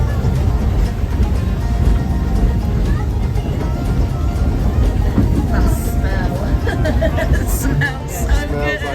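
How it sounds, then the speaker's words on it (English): A Roaring Camp log railroad train rolls along its tracks with a steady, loud low rumble and clatter, with the chatter of riders mixed in throughout. "These train tracks that we're currently riding on"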